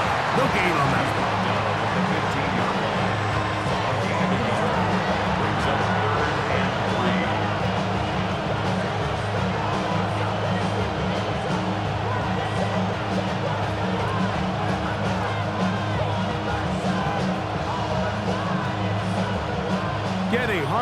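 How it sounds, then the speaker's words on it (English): Loud, steady crowd roar from a packed stadium in the Madden NFL 26 football video game, filling the whole stretch with constant babble under a commentator's play-by-play. "The noise very loud from the crowd."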